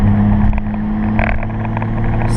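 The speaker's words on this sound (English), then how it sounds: "Let's get to 2 grand and go full throttle and see what happens." A Toyota Supra's 1JZ-GTE engine pulls at full throttle from about 2,000 rpm on a street tune, a loud, steady, close-up engine drone heard alone.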